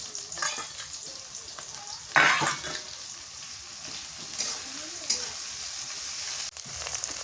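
Chopped onion and garlic fry in a pan with a steady, crackling sizzle. Scraping stirs and a louder burst of spattering break in now and then, and faint talk sits in the background.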